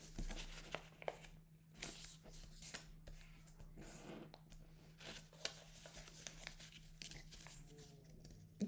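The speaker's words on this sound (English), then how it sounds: "Fold paper diagonally," A sheet of craft paper folded diagonally for a Christmas star makes faint, close rustles and crisp creasing scrapes in short irregular bursts over a quiet background.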